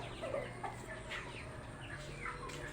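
Several chickens cluck and chirp intermittently at a moderate distance over a steady low background hum, with no one speaking.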